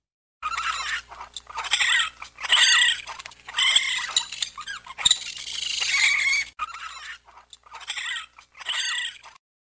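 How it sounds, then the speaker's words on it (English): A raccoon makes a run of close chittering, squealing calls in uneven bursts, with short quiet gaps and a few sharp clicks mixed in. "Raccoon."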